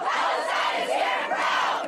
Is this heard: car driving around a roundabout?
no